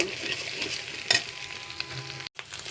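Egg being stirred and fried in a pan, a close crackling sizzle with a sharp scrape of stirring midway and a brief gap of near silence near the end.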